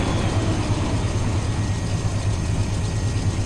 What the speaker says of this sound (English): A unit train there, it looks like.